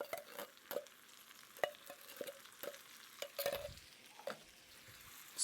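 A spoon stirs pizza sauce into a browned pasta mixture in a pan, with scattered scrapes and clinks over a faint sizzle, quiet and close, no talking.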